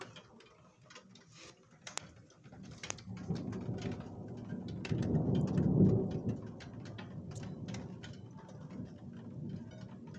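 Thunderstorm with steady rain in Calvados, Normandy: continuous rain hiss with a low rumble of thunder swelling to a peak midway, then easing back into the downpour, plus scattered drips and ticks, no talk.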